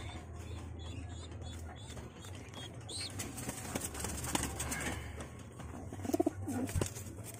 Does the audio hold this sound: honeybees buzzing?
no